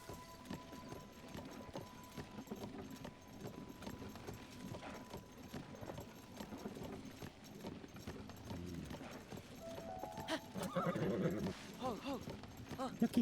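A horse in the video game Zelda: Tears of the Kingdom, with a clear neigh and clopping hooves over soft game ambience, and a louder snort and whinny near the end, while a person talks quietly over it.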